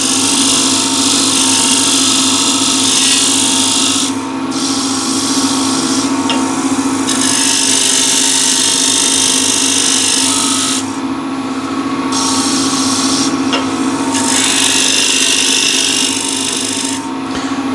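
Wooden bowl spinning on a lathe with a scraper cutting it, a loud steady rumbling drone overlaid with bursts of harsh rasping scraping that stop and restart several times.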